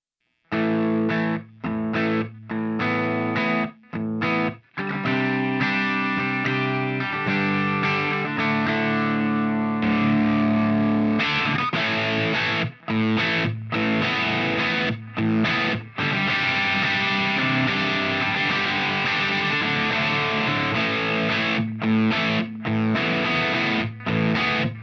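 Electric guitar through a Bogner La Grange pedal giving plexi-style distortion, choppy rhythmic chords with sharp stops at first, then a fuller sustained riff with short pauses, loud and close.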